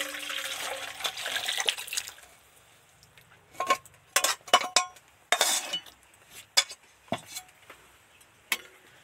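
Katla fish curry is poured out of a pan, with liquid splashing at first, then scattered metallic clinks and scrapes of utensil against cookware, close and irregular.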